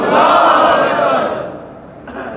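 Large crowd answers a Nara-e-Takbir call at a religious sermon gathering, a loud unified shout swelling at once, then fading after about a second and a half, with a brief renewed voice at the end.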